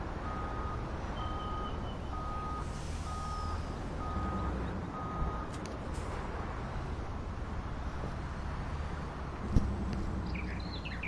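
In Farming Simulator 19, a tractor pulling a trailer backs up under a steady engine rumble, with a regular reversing beep repeating several times before it stops.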